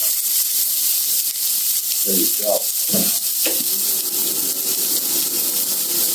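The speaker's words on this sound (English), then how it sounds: "let's get these onions into the pan. Look at that. I love that sound. Nice sizzle right there." Onions and garlic sizzle loudly in a frying pan with a constant hiss throughout, while a person briefly speaks over the crackling and a few stirring scrapes come through.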